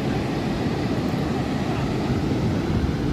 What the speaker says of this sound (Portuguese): Olha o avião lá.